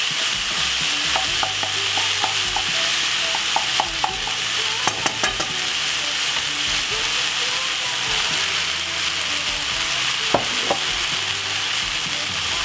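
Ackee and vegetables fry with fresh garlic in a pan, sizzling steadily as a utensil stirs and scrapes, with scattered sharp clinks and taps against the pan throughout.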